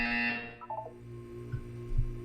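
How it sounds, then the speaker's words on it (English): A test chamber buzzer in Portal 2 sounds as a steady electronic tone that cuts off, followed by a short pattern of beeps and low thumps, heard without speech. "You will hear a buzzer."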